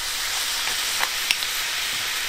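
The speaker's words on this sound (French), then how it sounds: "Et je remue" Caramel being stirred with cream in a hot pan, a steady bright sizzle with a few soft utensil taps and scrapes, close and constant for a couple of seconds.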